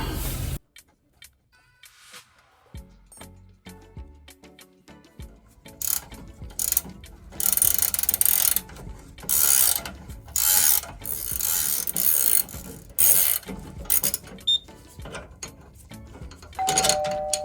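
A ratchet clicks rapidly in repeated bursts while loosening a bolt on a rear motorcycle shock during a shock guard install, close and loud, separated by short pauses and a few metallic taps.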